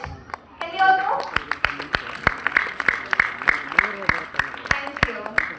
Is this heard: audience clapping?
yes